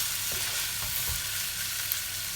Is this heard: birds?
no